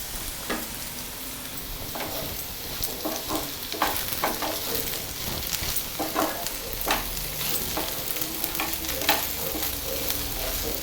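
Coconut powder frying in a pan with asafoetida and cumin, a steady close sizzle with scattered stirring scrapes and ticks running the whole time, no talking.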